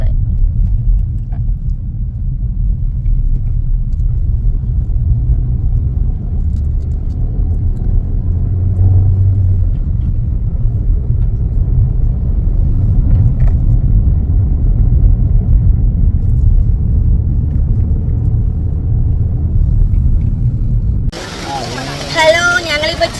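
A car rolls along a rainy road toward a forest, its engine a steady low rumble that fills the whole stretch, with faint voices inside and a brief change in the noise near the end.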